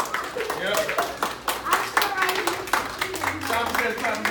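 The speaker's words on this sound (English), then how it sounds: "Simon says clap them down low." An audience claps their hands down low in a quick, repeated patter of claps, with a presenter's voice talking over them throughout.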